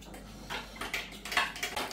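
Lassi stirred with a fork in a glass or bowl, a run of light clinks and scrapes growing busier after the first half second, close and soft, with no talking.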